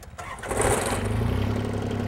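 A hydrostatic tractor engine cranks over and catches with a little throttle, rising into a loud, steady rumbling idle close by.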